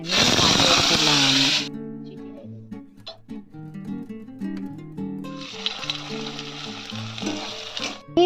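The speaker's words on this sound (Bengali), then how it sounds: "বিনস একদিকে ভাজা হচ্ছে" Beans and carrots frying in a pan give a steady, loud sizzle in two stretches, at the start and again near the end, with tonal background music throughout.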